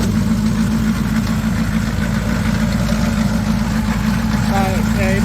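A GMC truck engine idles after an engine swap, still holding high RPM with a loud, steady, close low rumble, while someone talks over it near the end.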